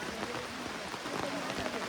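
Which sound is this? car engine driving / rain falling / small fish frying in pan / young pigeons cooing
rain falling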